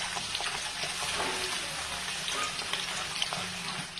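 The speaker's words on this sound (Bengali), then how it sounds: "এখন এর মধ্যে আমি কুচনো পেঁয়াজগুলো দিয়ে দেবো" Chopped onions sizzle and fry in a pan with already browned potatoes, a steady bright hiss running through the whole stretch with light stirring, close and unbroken.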